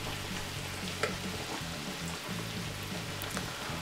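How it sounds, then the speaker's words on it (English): Breaded pork katsu deep-fries alone in a small fryer, giving a steady crackling sizzle of hot oil, close and even throughout, with no voices. "I have a small fryer, so I'm cooking one at a time"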